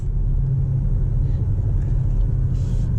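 A deep, steady exhaust rumble from a 2021 BMW X5 M Competition drones continuously from close by, low and throaty without noticeable revving.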